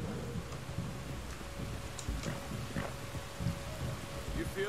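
Rain and distant thunder in the video game Red Dead Redemption 2, a soft steady patter with faint low rumbles and scattered drips, heard fairly quietly throughout.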